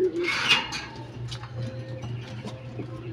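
Pigeons coo low and close in a loft, a steady murmur of soft repeated calls with some higher rustling and ticking sounds over it.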